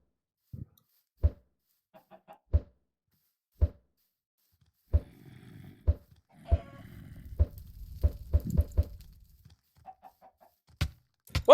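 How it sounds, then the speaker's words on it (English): Minecraft chickens cluck in short, sharp, evenly spaced blips scattered across the stretch, with a soft rustling bed of game sounds rising in the middle and no voices. "Chickens."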